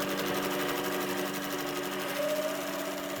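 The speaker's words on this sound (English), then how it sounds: "then I sew them together with my sewing machine" A double needle sewing machine sews fabric steadily and continuously up close, its fast mechanical whirring and droning hum unbroken throughout.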